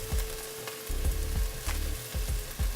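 Coriander powder and other spices for a curry fry in a hot pan with a steady, close sizzle and repeated stirring scrapes against the pan, no talk.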